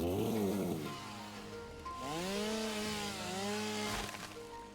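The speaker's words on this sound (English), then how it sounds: "Let's go ahead and equip the chainsaw back into our hands." A chainsaw in the game Satisfactory cutting down trees: a steady, loud motor whine that rises and falls in pitch as the blade bites through trunks, running continuously with no voices.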